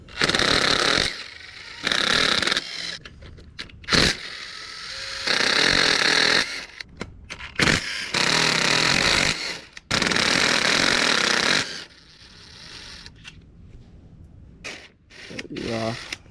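An impact or power driver spins out the clutch case bolts on a Honda Grom, coming in loud, harsh bursts of a few seconds each with short quiet gaps between them, close up and with no talk over it.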